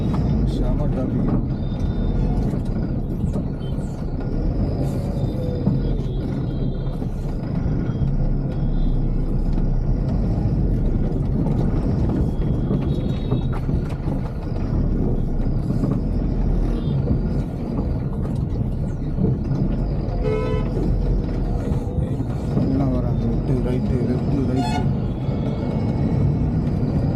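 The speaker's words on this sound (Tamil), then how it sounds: "ஃபுல் டிராஃபிக் ஆகிடுச்சு." Heavy, jammed road traffic near Chikkaballapur where bridge construction is underway, with a constant low rumble of engines, buses and cars, and repeated short horn honks scattered throughout, under a voice talking.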